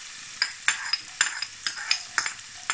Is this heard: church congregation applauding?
no